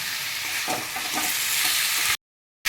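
Rohu fish head sautéing with spices in a pan, a dense, loud sizzle with a few stirring scrapes, cut off abruptly near the end.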